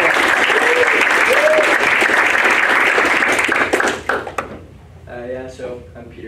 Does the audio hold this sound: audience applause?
yes